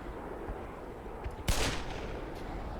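Gunfire in the Black Mesa video game: a single sharp, loud shot crack with a brief echoing tail over a low ambient rumble, followed by fainter distant reports.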